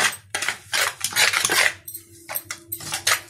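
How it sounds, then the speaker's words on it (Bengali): A spoon clinks and scrapes against a bowl while spices are stirred into whisked yogurt for tandoori chicken, giving several short, close bursts of clatter and rubbing with brief pauses, and nobody speaks. "এবার এর মধ্যে আমি মিশিয়ে দেব বাকি মশলাগুলো, দিয়ে খুব ভালো করে মিশিয়ে নেব।"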